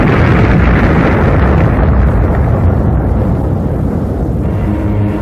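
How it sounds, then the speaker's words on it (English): A deep, continuous roaring blast from a space object exploding as it enters Earth's atmosphere, loud and sustained throughout without easing, with no voices. "Trailing streams of fire, it broke into our atmosphere, and then came the explosion."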